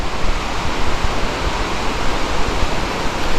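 A waterfall right beside the Appalachian Trail pours as a loud, steady, close rush of falling water, with nothing else audible.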